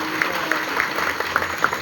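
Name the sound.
audience applauding for army soldiers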